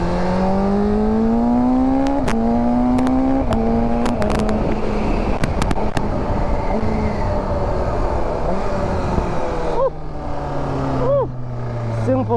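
A BMW S1000RR sport motorcycle runs with a strong engine drone whose pitch rises and shifts through the gears, and sharp exhaust pops and crackles sound at intervals, loud and close.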